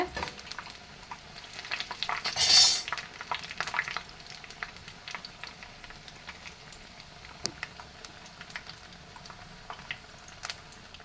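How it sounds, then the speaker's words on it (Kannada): Bread pakoda pieces sizzle and crackle in hot oil in a pan as they are flipped, a steady close frying hiss with a louder splash and spatter near the start, no talking. "ಈಗ ನಾವು ಇದನ್ನು ಉಲ್ಟಾ ಮಾಡ್ತಾ ಇದ್ದೀವಿ, ಸೊ ದಟ್ ಅದು ಕೆಳಗಡೆನೂ ಅಷ್ಟೇ ಅದೇ ಥರನೇ ಗೋಲ್ಡನ್ ಬ್ರೌನ್ ಆಗಿ ರೋಸ್ಟ್ ಆಗುತ್ತೆ"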